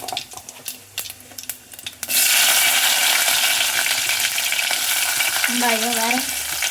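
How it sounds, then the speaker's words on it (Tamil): Onions drop into hot oil with fennel seeds for a chickpea biryani, bursting into a loud, steady sizzle after a few quiet taps and scrapes, continuing without a break. "இப்போ வந்து வெங்காயம் சேர்த்துக்கலாம்"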